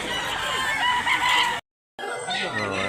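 A rooster crows loudly and close, a drawn-out strained call, followed after a brief gap by more crowing with other birds faintly around.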